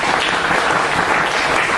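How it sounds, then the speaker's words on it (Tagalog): A congregation at a church revival meeting in the Philippines claps in dense, loud, continuous applause, with no gaps, heard close throughout the short burst. "palakpakan nato ang Ginoo"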